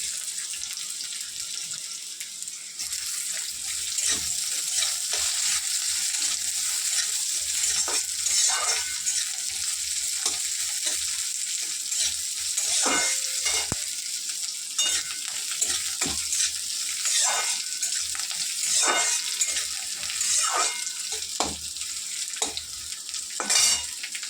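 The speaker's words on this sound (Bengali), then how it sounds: "আমার এই পেঁয়াজটা লাল লাল করে এই যে ভাজা হয়ে গেছে।" Onions frying in a pan, a steady hissing sizzle running throughout with occasional stirring clicks and scrapes, close and fairly loud, no talking.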